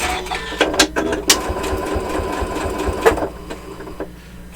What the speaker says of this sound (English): when you finish stitching, for example, I just put this in.